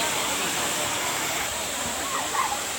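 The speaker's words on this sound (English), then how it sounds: "This is a waterfall." Waterfall at Junjong, Kulim, Kedah, a steady broadband rush of falling water that stays loud and constant throughout, with no talk over it.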